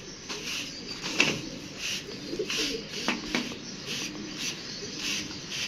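Pigeons, including tournament-flown birds, cooing softly and repeatedly at close range, with faint rustling and background noise and no talk.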